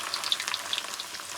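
Chevda ingredients fry in hot oil, giving a soft, continuous crackling sizzle with scattered sharp pops, heard alone and fairly quiet.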